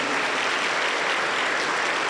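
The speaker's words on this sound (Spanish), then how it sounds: "Aplauso para el Señor Jesús." A church congregation applauds during a worship service, a continuous wash of clapping from many hands at a constant moderate level, with no speech over it.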